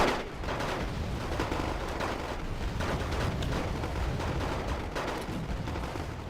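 Mortars and other weapons thunder continuously on a battlefield in the real-time strategy game Wargame Red Dragon, a dense, rumbling barrage of overlapping blasts and gunfire with no pauses.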